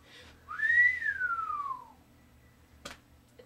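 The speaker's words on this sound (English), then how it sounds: "Now try to whistle." A single whistled note from a person swoops up and then glides slowly down over about a second and a half, clear and close, followed by quiet and a brief sharp click.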